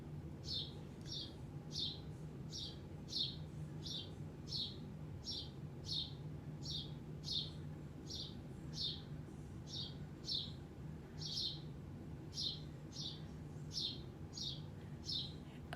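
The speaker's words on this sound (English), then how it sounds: "There is a bird in my grandson's room." A bird chirps indoors in a room, repeating short high tweets at a steady rhythm of about one per second over a quiet, faint background hum, with no one talking.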